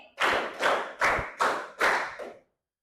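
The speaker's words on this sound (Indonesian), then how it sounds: "Tepuk 1 kali, tepuk 2 kali, tepuk 3 kali, tepuk 4 kali, tepuk 5 kali" A class claps together in a counted pattern at a teacher training session, five distinct loud group claps in a steady rhythm, close and without talk.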